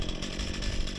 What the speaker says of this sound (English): we've been out here with some chainsaws and other tools, breaking it up into more reasonable pieces